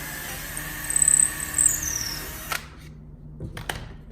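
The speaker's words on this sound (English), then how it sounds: "I'll show you exactly how we're gonna drill it" A power drill whines through a cabinet door held in a plywood jig, with a high, steady buzz that rises and tails off, then cuts out, followed by a couple of sharp clicks and knocks.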